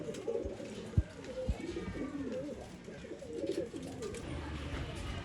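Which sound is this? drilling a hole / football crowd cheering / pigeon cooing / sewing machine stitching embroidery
pigeon cooing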